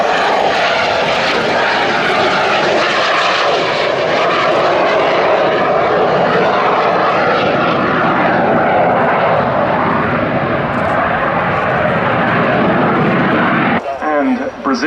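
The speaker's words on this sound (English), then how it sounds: "Zéphyr giving us a wing rock with the undercarriage and the arrestor hook down." A French Navy Alizé propeller aircraft, seen alongside a Zéphyr, drones loudly overhead at an air display, its engine roar steady and full before dropping off sharply near the end; a voice commentates over it.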